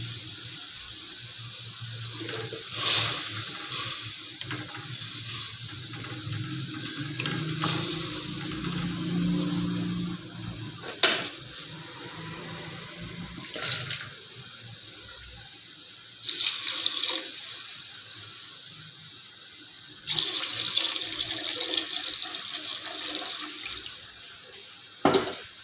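Water pours from a tap into a pot of rice for cooking, in a steady rushing stream with pauses and clinks of the pot, followed by louder bursts of flow near the end. No one speaks.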